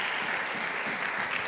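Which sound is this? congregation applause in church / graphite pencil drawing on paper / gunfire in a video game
congregation applause in church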